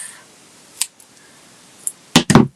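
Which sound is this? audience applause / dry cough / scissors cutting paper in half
scissors cutting paper in half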